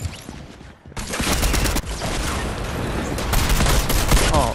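Gunfire in the video game Fortnite, a dense loud barrage of rapid shots and blasts after a brief quieter start, continuing steadily to the end with faint talk underneath.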